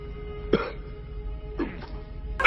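Three short, harsh coughs spaced about a second apart, close and fairly loud over a steady low hum.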